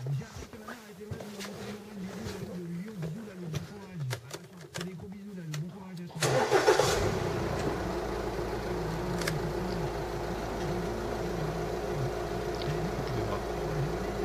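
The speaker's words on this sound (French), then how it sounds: "Nous allons mettre le véhicule en marche" An Audi A4 B8 engine starts at about six seconds with a burst of cranking and catch, then settles into a steady low idle hum that continues to the end, following a quieter stretch of faint sounds.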